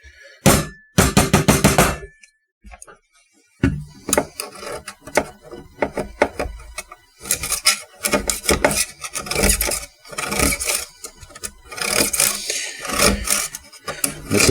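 Lemon rasped over a grater in a home kitchen while making lemon-filled cookies: bursts of scraping strokes with short pauses and a few knocks, close and fairly loud, with no talk.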